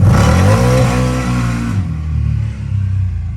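CFMOTO ZForce 950 Sport EFI side-by-side engine revving up close with a stock tuner plugged in, a loud rising rev that cuts off and settles into a lower, uneven idle.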